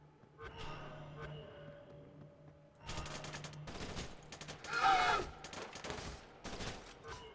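Gunfire in Splinter Cell: Conviction, a fairly faint rattle of rapid shots starting midway and continuing in quick bursts, with a brief voice.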